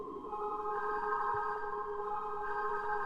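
A Serum granular oscillator with a reverb copy on the second effects bus sustains a soft, washy tonal drone with a faint pitched glide, quiet and continuous without any voices.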